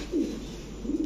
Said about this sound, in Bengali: নর কবুতর ভাই